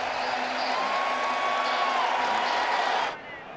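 A baseball stadium crowd of more than 48,000 applauds and cheers at an MLB postseason game, a broad steady roar under a commentator's voice that cuts off abruptly near the end.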